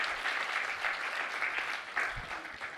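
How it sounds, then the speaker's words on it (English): An audience at a university GradSlam finals event applauds steadily, a dense, even patter of clapping that holds throughout. "let's give one final round of applause for everyone"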